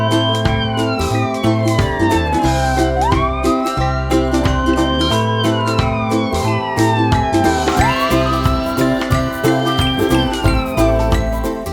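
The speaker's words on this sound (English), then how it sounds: "They got George out of the ambulance" A loud wailing ambulance siren rises and falls repeatedly over a musical backdrop with a steady rhythmic bass, from a children's cartoon.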